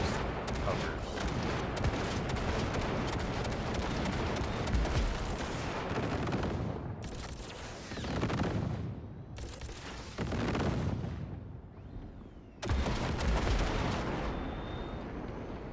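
Heavy gunfire hits enemy hover vehicles in the video game Cyberpunk 2077. Dense bursts of shots and explosions roar loud and continuous, broken by brief pauses, with a voice talking beneath.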